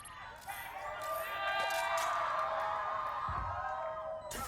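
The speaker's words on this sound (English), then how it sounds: "They're cheering!" Arena crowd at a Valorant esports match cheering and whooping, a broad sustained roar that swells and holds for several seconds with scattered shouts on top.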